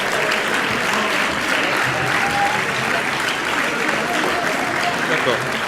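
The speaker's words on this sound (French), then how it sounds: "Vous pouvez les applaudir." An audience applauds rowing club champions at a sports awards evening, dense continuous clapping filling the room, with some voices mixed in beneath it.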